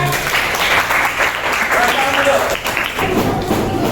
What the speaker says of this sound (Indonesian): Beri apresiasi dulu, tepuk tangan semuanya